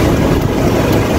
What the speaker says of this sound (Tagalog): Ayan, naka-on yung makina.